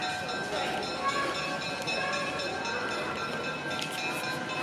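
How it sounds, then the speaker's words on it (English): A train ride passes outside at the Southeastern Railway Museum in Duluth, giving a steady, moderately distant rumble of rolling cars with faint bell-like tones over it. "Train ride going on outside."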